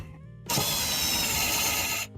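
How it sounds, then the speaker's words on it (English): An impact driver drives a wooden dowel during a DIY allotment build, a loud sustained whirring burst of about a second and a half that starts and stops abruptly, with quiet before and after. "Now we're done with the drill, and we can get out the impact driver."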